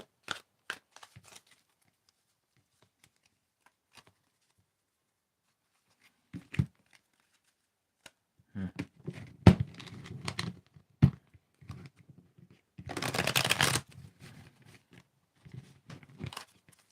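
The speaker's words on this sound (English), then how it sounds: "Tell me when to stop shuffling." A deck of playing cards is shuffled in several short, crisp riffling bursts, close and fairly quiet, separated by pauses with no talking.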